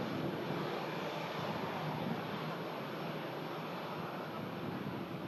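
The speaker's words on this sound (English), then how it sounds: "A320 with the Sharklets." Airbus A320 jet with sharklets at Manchester Airport, a continuous steady engine roar heard from a distance, even and sustained with no voices.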